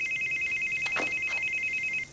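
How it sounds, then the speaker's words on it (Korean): An incoming call sets a telephone ringing in a film scene: a steady, pulsing electronic ring tone that holds for about two seconds and then stops abruptly, with no talking. "에밀리로부터 걸려온 전화."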